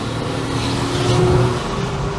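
A Vauxhall Senator B 3.0i CD automatic kicks down and accelerates, its engine note rising steadily and loudly from inside the cabin.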